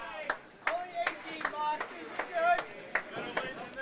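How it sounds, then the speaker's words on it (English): A crowd at a candlepin bowling match reacts to a spare with scattered sharp claps and short cheering voices, fairly quiet and intermittent. "Crowd going wild for that one."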